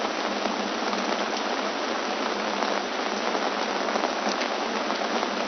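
Steady rain falls hard and close on a surface, an umbrella open nearby, making a dense, unbroken patter that stays even and loud from start to finish with no voices.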